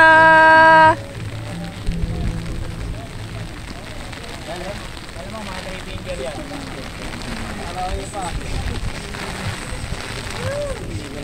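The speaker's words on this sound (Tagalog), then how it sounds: "At umulan na nga dito sa spot, pero nagpipishing pa din kami." Steady broadband hiss of rain falling outdoors at a fishing spot in Taguig, continuous throughout, with people talking over it and a brief tonal sound at the very start.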